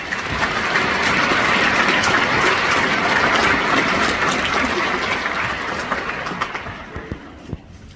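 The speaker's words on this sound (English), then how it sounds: "Let's give them a round of applause." Audience applause at a 2024 graduation ceremony, a dense, steady wash of clapping that holds loud for several seconds before thinning out toward the end, with a few scattered claps left.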